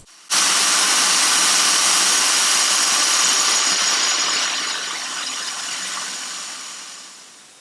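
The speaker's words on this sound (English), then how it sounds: "you can increase the speed of your drill and go full speed" A power drill whirs loudly at high speed, starting abruptly and grinding steadily into a glass bottle before slowly easing off.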